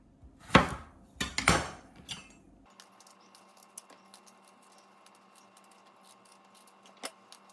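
Small, slightly dried-out apples, about ten of them, pared with a knife: a few loud scraping, clattering bursts early on, then quieter intermittent light ticks and scrapes against a faint steady hum, with one sharp tap near the end.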